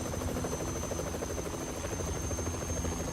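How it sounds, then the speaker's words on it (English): Steady whirring drone of a helicopter in the video game Yakuza Kiwami 3, a constant rotor hum at moderate level with no talk over it. "there's our Yakuza and helicopter"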